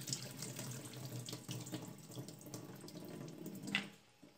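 Water runs steadily from a kitchen tap while soaking water for beans is changed, a continuous splashing stream into a sink, fairly quiet and close, with a brief brighter splash near the end.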